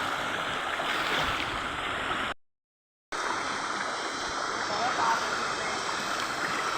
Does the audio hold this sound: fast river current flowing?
yes